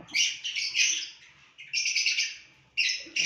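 A rescued lovebird chick chirps in three close, bright bursts of rapid high twittering separated by short pauses, with no voices.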